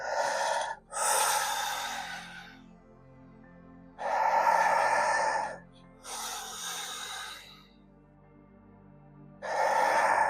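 Deep breathing in a guided Wim Hof exercise session: long, strong, airy inhales and exhales in a slow alternating rhythm, close and loud, each breath lasting a second or more, with short quiet gaps between.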